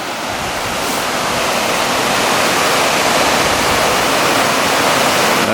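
The waterfall on the Otter Falls trail in Seven Devils, North Carolina, roars as a loud, dense, continuous rush of falling water close by. No voices are heard over it.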